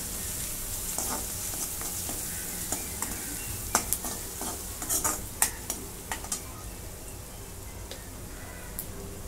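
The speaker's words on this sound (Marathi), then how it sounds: "आता हे परतून घेते" Crushed chili and turmeric sautéing in a pan for a zunka dish, a steady close sizzle with scattered scrapes and clinks of a spoon stirring against the pan, no voices.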